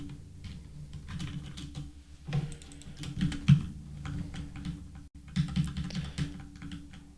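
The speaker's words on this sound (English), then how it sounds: "I'm typing stuff, but it doesn't register in the console." Steady typing on a computer keyboard while coding, a dense run of quick soft key clicks in bursts with brief pauses, fairly quiet over a low background hum.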